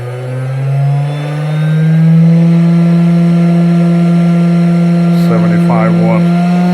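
A cheap 500W air-cooled CNC spindle running with no load gives off a loud steady high whine with vibration, its pitch climbing slightly at first, and someone speaks briefly over it near the end.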